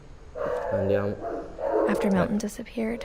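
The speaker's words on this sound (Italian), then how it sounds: "Scusate per i cani che abbaiano." Dogs bark nearby in a few loud bursts of woofs and yips, mixed with someone talking and game dialogue playing.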